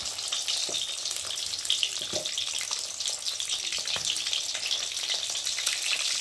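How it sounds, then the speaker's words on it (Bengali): Three eggs with salt fry in a hot pan, giving a continuous bright sizzle with light crackling and occasional soft stirring scrapes, close and steady throughout. "দিয়ে ডিম তিনটেকে ভেজে নেব"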